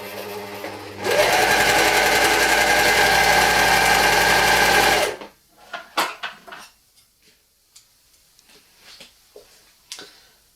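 Overlock serger stitching a jersey neckline seam runs in one steady, loud mechanical whir for about four seconds, then stops, leaving scattered soft handling clicks and fabric rustles.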